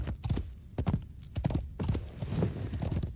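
A horse's hooves clip-clop in a steady, brisk rhythm as a rider heads south in a video game, playing a Beorning. The close, even hoofbeats continue alone with no talk.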